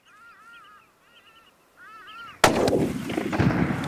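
A single loud rifle shot at a crocodile during a hunt in the Luangwa Valley, a sharp close blast with a rumbling tail, preceded by faint honking bird calls.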